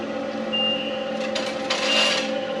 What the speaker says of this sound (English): You can hear there's a cow now gone in there, that beeping sound.